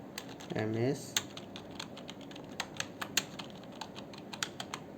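Keys clatter on a computer keyboard in irregular bursts of crisp clicks while someone writes words in a document, with a short spoken phrase near the start.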